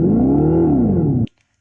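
A Dodge car revved in Sport drive mode gives a smooth, tonal hum that climbs and then sags in pitch for just over a second before cutting off abruptly into silence.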